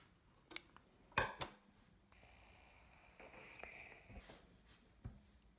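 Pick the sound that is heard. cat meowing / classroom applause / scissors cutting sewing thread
scissors cutting sewing thread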